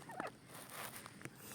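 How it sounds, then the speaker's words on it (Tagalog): Cockerels come close on a farm, begging for feed. One bird gives a quick, faint throaty call at the start, then only quiet outdoor background follows. "Nakakatuwa nga itong mga cockerels at naglapitan nga sa akin nung dumaan ako."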